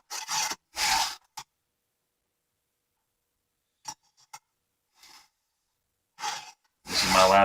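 Steel file rasping across a chainsaw cutter tooth during sharpening, the final tooth of the chain; a few short separate strokes spaced by pauses, close and fairly quiet, with breathing between them.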